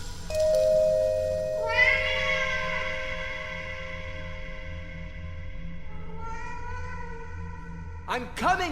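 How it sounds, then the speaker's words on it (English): A video-game cat meows for food in long, drawn-out cries, first one extended call, then a second after a pause, ending with short chirpy sounds over a low ambient hum. "Your cat interrupts you, begging for food"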